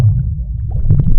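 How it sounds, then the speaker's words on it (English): Low gurgling stomach rumble from gas and fluid moving through the intestines, a loud, close, murky churn with a few bubbly pops near the end and no talk. "It's just gas and fluid moving through your hollow intestines."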